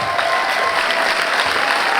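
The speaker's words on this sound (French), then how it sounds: "Et on les applaudit bien fort." Audience applause at a social dance final event, a dense, steady wash of many hands clapping throughout, loud and continuous without breaks.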